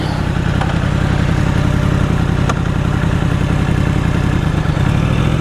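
A 2016 Yamaha R1 fitted with an Akrapovic GP slip-on exhaust rides along a gravel road, its engine a loud, steady, close drone that holds throughout with no voices.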